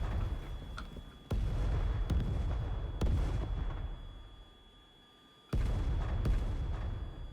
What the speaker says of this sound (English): drop bombs on all of those buildings there